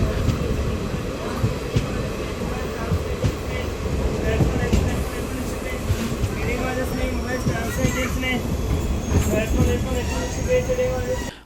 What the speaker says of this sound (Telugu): సాయంత్రం నాలుగు గంటల పదహారు నిమిషాలకు మన ట్రైన్ గొల్లపల్లి చేరుకుంది